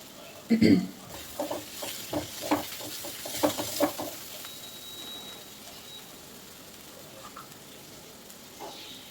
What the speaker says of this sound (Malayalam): അതൊന്ന് തുറന്ന് നമുക്ക് നല്ലോണം ഇളക്കി കൊടുക്കാം